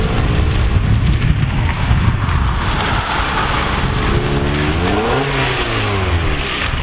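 A Mazda Miata with an open differential doing skids, its engine droning loudly and steadily throughout, revs rising and falling near the end over a constant rushing tire-and-road hiss.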